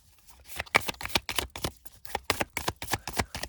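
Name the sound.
shuffling tarot cards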